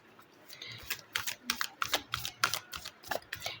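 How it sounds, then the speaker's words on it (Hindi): Tarot cards shuffled by hand in a quiet room, a run of crisp, rapid flicking bursts arriving in an irregular rhythm, close and moderately loud. "मैं कार्ड शफल कर रही हूँ"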